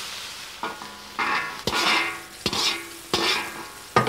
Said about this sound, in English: the pork is quickly tossed till its colour changes